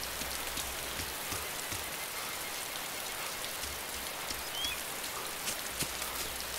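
Steady rain falls in the video game DayZ, a dense even hiss of drops hitting surfaces with no talk over it.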